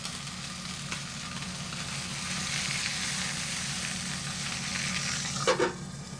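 A steak sizzles steadily in a pan, a broad continuous frying hiss near the mic with a brief clatter near the end, no talk.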